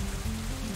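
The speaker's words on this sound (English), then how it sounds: "Oh, it's raining!" Rain falling in the visual novel game Katawa Shoujo: a steady, dense hiss of rain over a low hum, continuous throughout with no talking.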